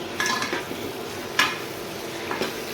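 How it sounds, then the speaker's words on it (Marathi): Tomatoes go into onions already frying golden in a pan for misal pav, and the mix sizzles softly while a spoon scrapes and clinks against the pan a few times, fairly quiet and close. "आता आपण टमाटर टाकू याच्यामध्ये।"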